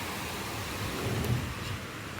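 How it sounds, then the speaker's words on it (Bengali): Heavy rain pours down in a dense, steady hiss, with a low rumbling undertone throughout. "বৃষ্টিটা কিন্তু বেশ জোরে হচ্ছে"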